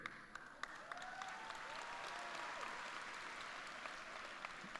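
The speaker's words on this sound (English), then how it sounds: "Now, you can clap for that." A large audience at a school for the arts graduation applauds, a continuous, fairly distant wash of clapping with a few sharper nearby claps standing out.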